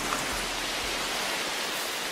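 Steady rain falls on the Amazon rainforest in Brazil, an even, dense hiss with no breaks or voices over a short stretch.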